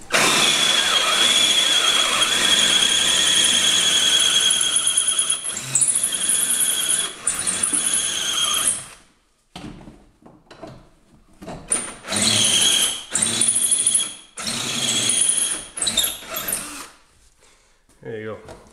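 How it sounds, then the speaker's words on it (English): A power drill enlarges the hole in a steering tie rod end from a High Lifter upgrade kit for a Yamaha Rhino so a 1/2 inch bolt fits. A loud, steady high-pitched squeal runs for about nine seconds, then breaks into short bursts with gaps. "So I'm going to drill out the hole."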